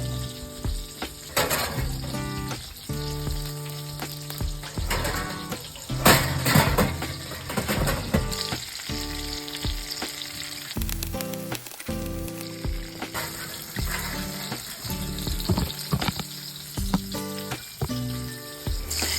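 Sausages and bacon sizzle and fry together in a pan for a full English breakfast, a steady close crackle with occasional clinks and scrapes of utensils against the pan.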